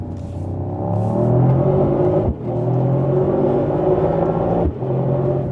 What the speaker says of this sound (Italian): Motore e suono strepitoso